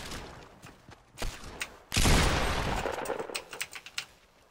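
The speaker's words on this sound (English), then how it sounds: "I'm shooting at somebody that's coming towards your house." Rapid bursts of gunfire in a Fortnite match, several volleys of shots crackling in quick succession with one sustained loud barrage in the middle, close and harsh.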